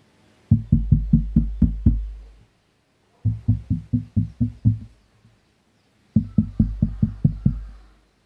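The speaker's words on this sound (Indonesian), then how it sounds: "di sini kita akan coba tes dengan mengetuk meja, stand, dan mic-nya" Knuckle taps on a table, a microphone stand and a RODE PodMic USB come in three quick bursts of about six or seven dull, resonant knocks each, close and loud with silence between the bursts.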